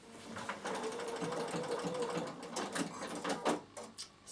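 A Bernina sewing machine runs a straight stitch around a fabric bag, with a close, buzzing whir that holds steady for a couple of seconds. The stitching then turns into choppier, uneven mechanical chatter with a few brief pauses.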